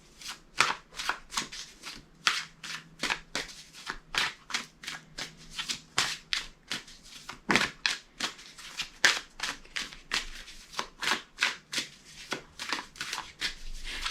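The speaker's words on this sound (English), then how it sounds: "So I like to shuffle on camera" Tarot and oracle cards are shuffled by hand, close and crisp, in a long rhythmic series of riffling bursts and soft taps with no talking.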